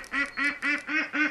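Ducks in the hunting video game Way of the Hunter quack five times in a quick, even rhythm, clear and fairly close, with no talking over them.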